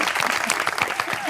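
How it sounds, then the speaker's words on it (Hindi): Audience applause on a Pakistani talk show, a short burst of loud, close clapping from the studio crowd. "तालियां।"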